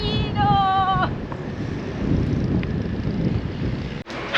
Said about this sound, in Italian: Che dici, c'è un po' di vento?